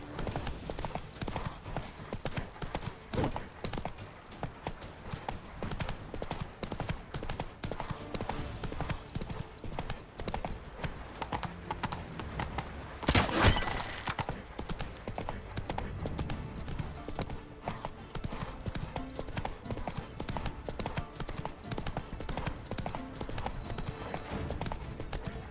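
Steady clip-clop of a horse's hooves while riding in The Witcher 3: Wild Hunt, a continuous quick rhythm at moderate level with faint ambient game sound and little else.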